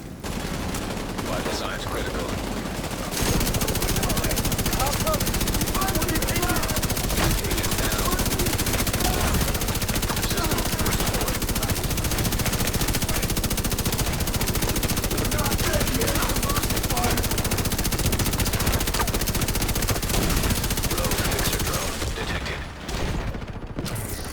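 Sustained LMG gunfire from The Division 2 video game rattles almost continuously for about twenty seconds, a dense automatic stream of shots with bursts and mechanical clatter, loud and close, starting after a brief quieter lead-in.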